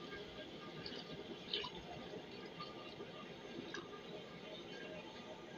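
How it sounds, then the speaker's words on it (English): Water runs steadily into a cooking pot of rice, cowpeas and potatoes, a continuous close pouring and dripping hiss at an even level throughout. "The final thing is putting some water in it."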